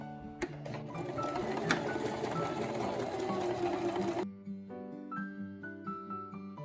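A Singer M3405 sewing machine stitches a seam with a close, steady mechanical whir for about four seconds, then stops abruptly, leaving a quieter tail of light handling noise.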